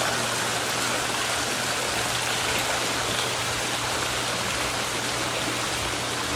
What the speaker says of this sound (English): Now we'll test the Polaris booster pump. I'm going to turn it on for just a moment.